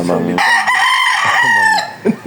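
A rooster crows loudly and close by, one long drawn-out call, followed by a brief cluck at the end.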